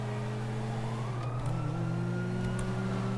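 A police car siren in GTA 5 wails with a steady rising and falling tone, loud and continuous, alongside a car engine in the game.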